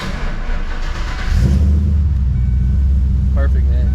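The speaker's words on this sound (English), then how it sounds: "Hear the Coyote start up." A Ford Coyote V8 swapped into an SN95 Mustang cranks and fires up, the starter giving way to a loud, steady, deep idle rumble close by, with a voice speaking just before it catches.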